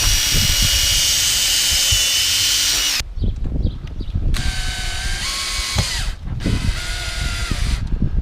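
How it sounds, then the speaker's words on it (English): A power drill whines loudly and steadily drilling a hinge hole while installing a storm door, then cuts out and restarts in two more bursts with brief pauses, close by with no talking. "then I'm gonna drill a hole"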